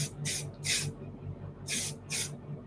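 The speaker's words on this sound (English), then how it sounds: "But I'm going to just use a little bit of hairspray." Hairspray sprayed onto freshly curled hair, a few short hissing bursts in two pairs, close and fairly loud, with no talking.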